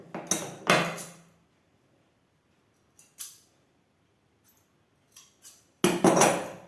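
Scissors cut through blouse fabric, about 39 inches, during tailoring: several separate broadband snips and crunching bursts near and fairly loud, with quiet gaps between them and a long strong cut at the end.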